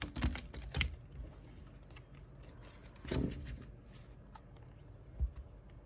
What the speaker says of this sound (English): Some shuffling, of course.